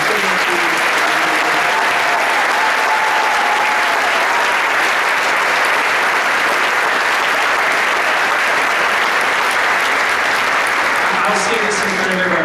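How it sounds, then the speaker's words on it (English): Sustained applause from a large stadium audience honoring marching band chaperones at a high school marching band review, a steady dense wash of clapping with faint crowd noise and a voice briefly audible near the end. "if you could please give those people a huge round of applause"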